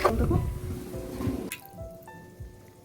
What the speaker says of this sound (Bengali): মশলা দেওয়া জলটাও দিয়ে দিলাম বাটিতে যে মশলাটা ছিল সেই মশলা ধোয়া জলটাও দিয়ে দিলাম